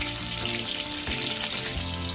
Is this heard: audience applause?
no